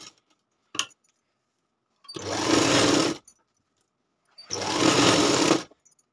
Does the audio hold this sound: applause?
no